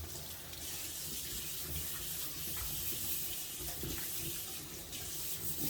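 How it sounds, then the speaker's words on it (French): Tap water runs steadily into a sink as a sponge is rinsed under the stream, a close, even splashing hiss with small irregular sloshes throughout. "Alors, je rince avec cette éponge."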